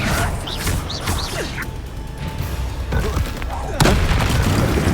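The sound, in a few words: Bombardo and Confringo spell explosions in Hogwarts video game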